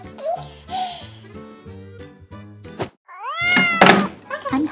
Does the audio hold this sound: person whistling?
no